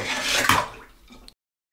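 A toy car plunged into cold water gives a short splashing slosh that fades over about a second, ending in a faint drip before silence.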